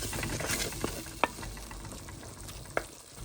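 Cluster beans (gawar) cooking in a pan for a few more minutes: a steady close sizzle and bubbling fry with a couple of sharp clicks of a spoon against the pan, no voices.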